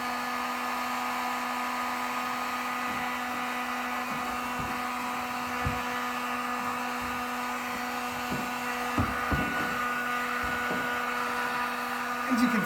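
A heat gun blows steadily on a plastic bumper cover panel, producing a constant close whine and rushing hum with a few faint knocks and taps over it, outdoors on a cool day.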